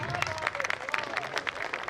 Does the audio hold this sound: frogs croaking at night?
no